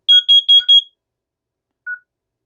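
A Lyric alarm system carbon monoxide alarm sounds during a test: four loud, quick, high electronic beeps in a row, a pause, then one softer beep starting the next cycle.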